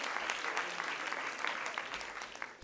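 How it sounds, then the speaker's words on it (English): Audience applause after a school debate result is announced, a brief, fairly soft burst of many people clapping in a hall, steady for under three seconds. "A round of applause, please,"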